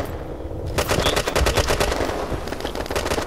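Rapid automatic gunfire from the online shooter Red Crucible Firestorm, a dense burst of repeated shots starting after a brief quiet moment and continuing loud and steady to the end.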